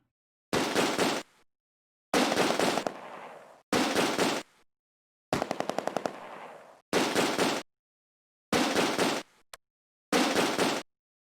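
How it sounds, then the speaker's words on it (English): Mortar fire in the war video game Close Combat: A Bridge Too Far: seven loud, separate blasts roughly a second apart, each a short roaring burst cut off by silence, one with a rattling, stuttering texture. "They're starting to try to mortar the team again."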